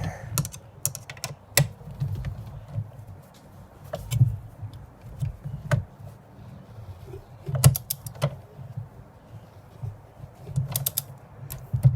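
Torque wrench tightening the front shock bolts on a Jeep ZJ, with a run of close, irregular ratcheting clicks and creaks in short bursts over a low rumble.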